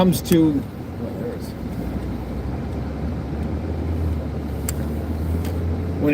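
Steady low rumble of road and engine noise inside a moving car, continuous and even throughout, with a voice briefly speaking at the start.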